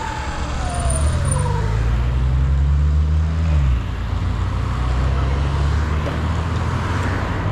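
Steady road traffic in Echo Park, Los Angeles, with loud close engine rumble from a car stuck in slow traffic, a gliding low tone around the middle and a faint high whine early on, continuous throughout.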